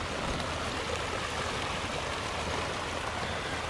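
Heavy, steady rush of water pouring out of a fish pond outlet, a continuous broadband gush that stays loud and even throughout with no pauses.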